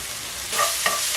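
Garlic and ginger frying in a pan, a dense close sizzle that brightens midway as the pieces are stirred, with a couple of soft scraping strokes.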